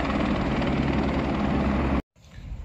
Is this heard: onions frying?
no